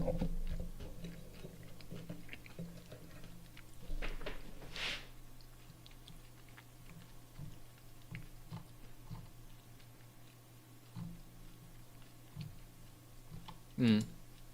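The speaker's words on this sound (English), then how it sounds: "Sorry for chewing." Soft, close chewing of food during a Teamfight Tactics livestream, faint and intermittent with small mouth clicks over a quiet, low background.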